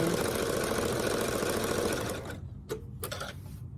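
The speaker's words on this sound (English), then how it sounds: "I am using a zigzag stitch. Any sewing machine will do." A domestic sewing machine runs a zigzag stitch through quilted fabric, a fast, steady mechanical chatter that stops partway, followed by a few short clicks and handling noises.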